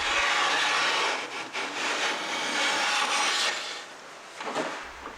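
A hand plane scrapes along the end grain of a 1930s silky oak sideboard, producing a continuous loud, close rasping hiss that rises and falls in long strokes.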